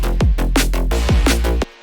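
Short drum and bass loop in which the snare sidechains the bass layers but not the sub, so the bass dips and swells back after each hit, loud and up close, stopping abruptly.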